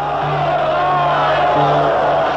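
A large staged crowd in Romania cheers and shouts together in an archival recording, loud and continuous, with sustained tonal calls rising above the roar.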